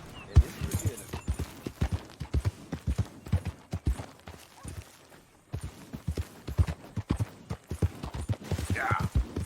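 Horse hooves clip-clopping in Red Dead Redemption 2: an irregular run of sharp, close hoof strikes, some louder and some softer, with a short pause partway through and faint voices at times.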